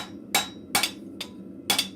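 A blacksmith's hammer strikes metal at a forge, four sharp ringing blows at uneven intervals, close and loud, each decaying quickly into a quiet room.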